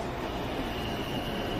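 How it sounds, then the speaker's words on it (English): A New York City subway 2 express train rumbles into the station, a loud, steady low roar of wheels and rails filling the platform with no distinct breaks. "Downtown, express 2 train. Approaching the station, please stand away from the platform edge."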